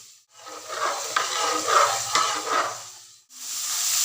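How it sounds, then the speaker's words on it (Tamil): Fried onion and tomato tempering poured into a pot of sambar, giving a sustained close sizzling hiss with stirring clatter that stops briefly before the sizzle resumes. "நம்ம இது சாம்பாரில் கொட்டிடலாம்."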